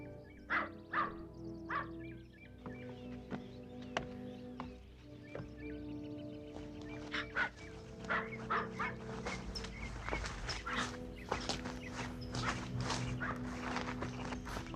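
A dog in a film yelps and whimpers in short, repeated cries after being struck, over footsteps, scuffling and background score, with sharp bursts scattered throughout.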